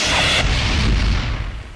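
A bomb blast in a Telugu film erupts as a loud, dense burst that roars for a moment, then rumbles and slowly fades, with no voices over it.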